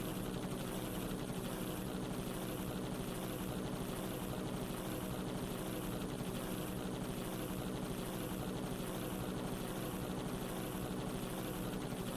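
Autopilot helicopter in the video game Danganronpa Another Despair Academy, a steady droning rotor and engine hum with a fast, even blade pulse, continuous and unchanging throughout, with no voices.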